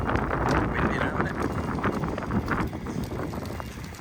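Gusty wind buffets an outdoor site during an attempt to bake the world's biggest bread, a steady broadband rush and rumble filling the whole moment with shifting gusts and faint talk mixed in.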